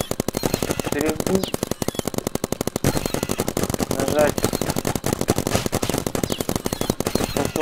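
Rapid, nonstop automatic paintball gun fire in the video game Big Paintball, dense bursts of shots with only a brief break, with a voice talking over it.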